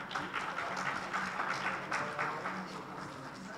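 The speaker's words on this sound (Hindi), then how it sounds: "आप सबकी भरपूर तालियों में।" An audience claps at a certificate ceremony as a recipient comes on stage, a brief burst of moderate, fairly distant applause that tapers off within a few seconds.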